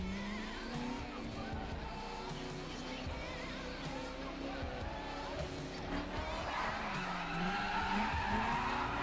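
A car drifting in The Crew, engine revving and wavering while tires squeal and skid through long slides, the squeal rising louder toward the end, with someone talking faintly underneath.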